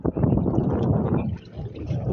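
Gusty sea wind over shallow water off Iling Island, Mindoro, rushes loudly across the microphone in a rough, roaring wash that dips briefly before swelling again.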